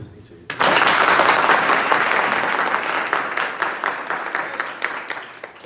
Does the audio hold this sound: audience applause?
yes